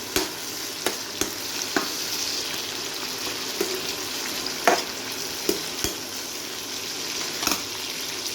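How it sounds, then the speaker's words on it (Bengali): Chicken pulao ingredients fry in a pan with a continuous sizzle, broken by sharp, regular scrapes and knocks of a spoon stirring, close and moderately loud throughout. "হালকা করে ভেজে নেব"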